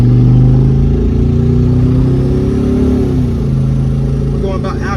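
A turbocharged Chevy Tahoe on a base tune accelerates at half throttle, its engine drone climbing steadily in pitch with a throaty hum, then settling back to a lower steady tone near the end.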